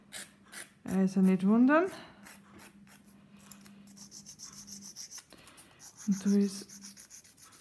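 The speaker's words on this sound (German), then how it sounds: "Nehme mir meine Feile." A nail file rubs back and forth over a glitter nail in short, close, scratchy strokes, separated by pauses. Someone talks in between the strokes.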